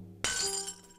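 Glass dishes shatter in the point-and-click game Edna bricht aus: one sudden, loud crash of breaking crockery with a bright tinkling tail that fades out across about a second.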